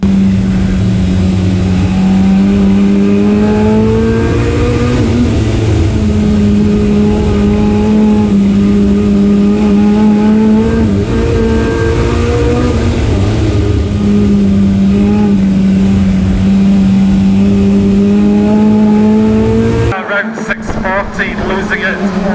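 Stockcars battle for the lead at Cowdenbeath Racewall, a close, loud engine note droning continuously with slight pitch shifts. A voice talks over the racing, and the sound cuts away abruptly near the end.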